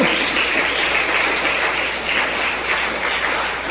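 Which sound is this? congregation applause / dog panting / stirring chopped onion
congregation applause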